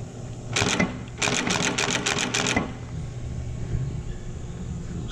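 An Acme Interlake Model A flat book and saddle stitcher, worked by a foot pedal, clatters out one short stitch, then a rapid run of about seven mechanical strokes, over a low steady room hum.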